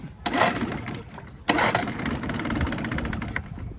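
An old outboard boat motor is being pulled to start. Two loud, close bursts of sputtering engine noise catch briefly, then a rough, uneven churn continues without settling into a clean idle.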